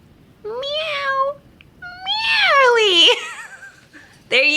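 A person's voice imitates a cat meowing, with drawn-out, wavering, whiny mews that rise and fall, loud and close, followed by the start of another cry.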